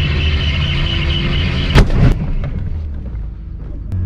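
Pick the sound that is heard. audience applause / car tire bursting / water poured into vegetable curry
car tire bursting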